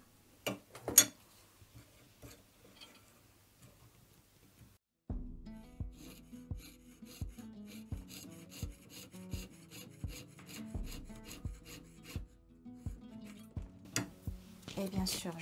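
Blade cutting brass sheet for earrings, a quiet patch with a few scrapes followed by a rhythmic series of close, repeated rasping strokes.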